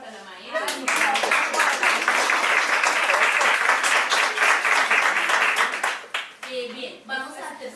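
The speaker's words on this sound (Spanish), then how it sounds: "la petición es un fuerte aplauso para la maestra" Classroom applause for a teacher: a dense burst of clapping from a group, including children, rises quickly, holds steady for several seconds, then fades into scattered claps and faint voices.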